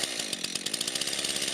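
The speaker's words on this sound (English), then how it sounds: "This chainsaw is very smooth and doesn't require a lot of pull to get started." Chainsaw running with a buzzing, rapidly pulsing engine note, steady and fairly close, no voices present.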